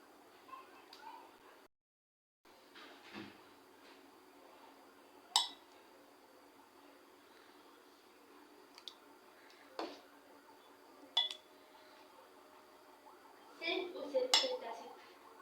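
Metal utensils clink in short sharp bursts against a bowl and pot as oil-rich brinjal curry (ennai kathirikai kuzhambu) is spooned out, with a cluster of louder clinks near the end over a quiet kitchen background.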